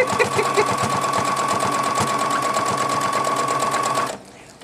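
A sewing machine runs steadily while stitching a seam on pajama pants, a close, even whir with rapid needle clatter that holds for about four seconds and then stops.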